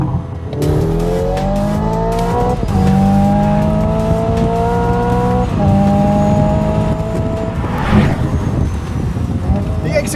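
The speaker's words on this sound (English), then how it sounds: "suddenly you have a fake 8-speed transmission with fake engine sound" Synthesized engine note from a Hyundai Ioniq 5 climbs through simulated 8-speed gear changes, each rising tone dropping at a shift, with a crackling burble near the end, loud inside the cabin.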